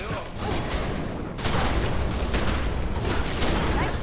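Rapid gunfire in The Secret World video game, a steady dense crackle of shots layered with mechanical clanks, growing louder partway through and continuing without pause.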